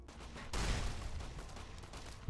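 Gunfire from a better weapon in the video game Fallout: New Vegas bursts out after a brief lull, a loud cluster of shots that rolls into a sustained rattling barrage.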